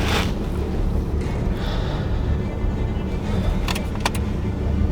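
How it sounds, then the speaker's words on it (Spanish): A car draws near on an open road, a steady loud engine rumble and road noise that holds throughout with a few faint clicks over it. "ahí viene un coche también"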